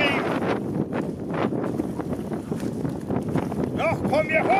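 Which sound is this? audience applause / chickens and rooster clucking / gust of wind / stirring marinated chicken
gust of wind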